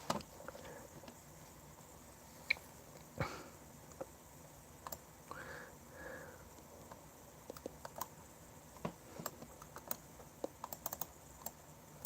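Keys tapped on a computer keyboard in an irregular, sparse rhythm of light clicks, faint and close in a quiet room, with a few louder isolated clacks.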